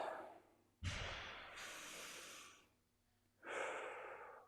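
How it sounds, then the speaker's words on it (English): Deep, slow breaths during a stretching exercise: a strong inhale-exhale followed by a shorter second breath, close and fairly loud, with no talking. "Give me 2 more deep breaths."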